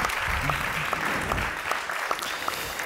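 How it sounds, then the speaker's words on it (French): A theatre audience at a cultural season presentation claps steadily, a dense, even wash of applause with a few sharper claps standing out near the front. "vous venez me rejoindre sous un tonnerre d'applaudissements"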